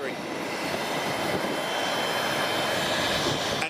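Jet engines of an MD-11 tri-jet airliner roar steadily at an airport, a loud, continuous broadband rumble and whine that holds constant throughout with no talk.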